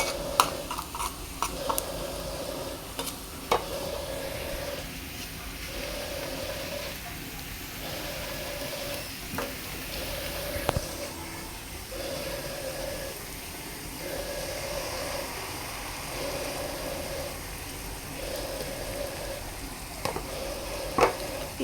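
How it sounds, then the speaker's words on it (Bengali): Onions frying in a pan for mustard hilsa crackle and sizzle steadily up close, broken by regular soft stirring strokes roughly every second, with occasional sharper clicks of the utensil against the pan. "এখানে পেঁয়াজটা ভেজে নিয়েছি।"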